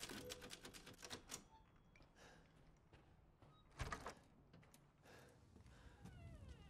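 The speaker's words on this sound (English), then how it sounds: "they brought back the typewriters" Typewriter keys clatter in Resident Evil Village, a quick run of sharp mechanical clicks followed by sparser strikes and a carriage-like slide, heard at close range with a quiet game ambience underneath and no talking.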